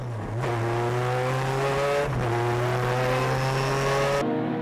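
Two Honda S2000 race cars, the J's Racing and C-West tuned cars, battle on track with loud, high-revving engine tones that climb, drop sharply at a gearshift, then climb again before cutting off.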